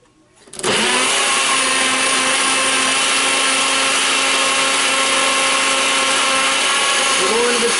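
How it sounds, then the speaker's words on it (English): A Nutribullet Pro 900 series blender grinding celery stalks, switching on abruptly and then a loud, steady high-pitched motor whine that runs unbroken, close by. "We're going to let it grind up this celery and see how it does."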